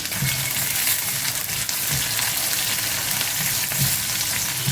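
Small onions and garlic sauté in hot oil in a pan, giving a steady, close sizzle with soft stirring scrapes and no voices.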